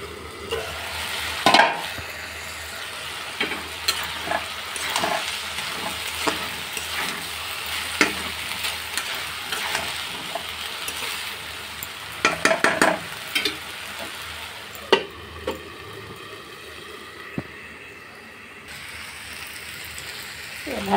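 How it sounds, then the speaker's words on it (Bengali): Finely chopped stems, potato and jackfruit seeds fried in a pan make a continuous crackling sizzle, punctuated by frequent spatula clatters and scrapes, some sharp bursts close by. "ডাঁটা কুচি কুচি করে, আলু কুচি কাঁঠাল কুচি কুচি করে এভাবে ভাজি করবেন"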